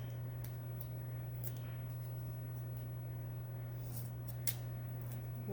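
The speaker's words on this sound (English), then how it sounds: "Let me see if I can cut it with my smaller ones." Small scissors snipping through cured craft resin, a few sharp faint clicks over a steady low hum, close by and quiet.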